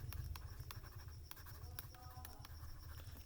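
Pen scratching steadily across paper while working a CA Inter taxation salary problem, a close, continuous writing sound with short strokes and brief pauses, no talking.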